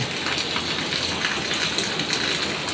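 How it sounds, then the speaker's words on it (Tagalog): Steady, heavy rain pours down without a break, a dense broadband hiss of drops drumming on surfaces, loud and close, with no voices. "talagang malakas po ang ulan"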